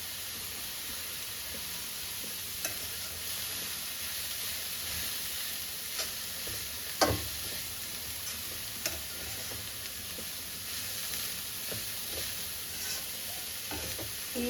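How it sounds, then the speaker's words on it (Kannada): Mixed vegetables for a momo filling fry together in a pan with a steady hiss and sizzle, occasional stirring scrapes and clinks, close and alone with no talk. "ಎಲ್ಲ ಹಾಕ್ಬಿಟ್ಟು ಒಂದೇ ಸತಿನೇ ಫ್ರೈ ಮಾಡ್ಕೊಳ್ಳೋದು"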